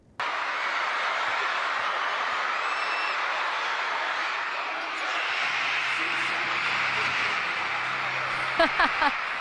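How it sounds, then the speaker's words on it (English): A large crowd roars and cheers continuously at a basketball game in a big indoor arena, with a few sharp thuds near the end. "You can hear their reaction after she nailed all the shots."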